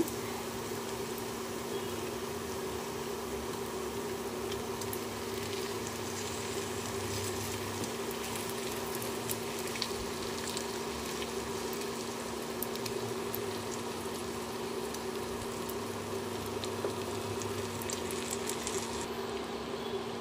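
Silver carp pieces fry in hot oil in a pan, a steady low sizzle and bubbling that runs unbroken and fairly quiet for about twenty seconds, with no talking over it.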